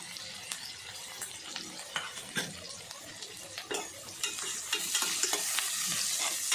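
Onion and lentils fry in a pan for an okra curry while a utensil stirs them, giving a continuous sizzle with frequent scraping and clinking that grows busier and louder toward the end.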